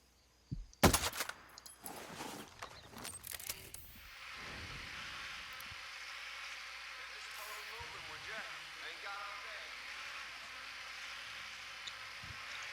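A Scorpio Scout designated marksman rifle fires at a target 400 meters away in Ghost Recon Breakpoint: a sharp, loud crack near the start, several quicker cracks after it, then a steady buzzing outdoor ambience.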